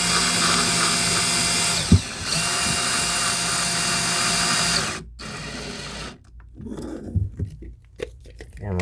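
A power drill drives a screw in while fitting a bifold closet door, a loud continuous whir that runs for about five seconds and then stops abruptly, followed by quieter handling noises and a few clicks.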